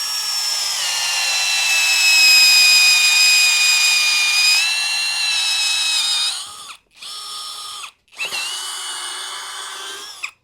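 A Huaqi HQ-ID150 21V cordless drill with a 25 mm fast-cut bit bores into hard old wood, whining loudly and steadily for several seconds, then cutting out twice briefly before spinning up again.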